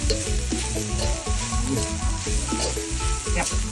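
Monitor lizard being stir-fried in a hot pan for a spicy Thai dish, continuous loud sizzling with repeated scraping and clattering of the spatula in an irregular stirring rhythm, no voices.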